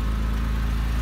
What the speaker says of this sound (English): of course that current S exhaust sounds fantastic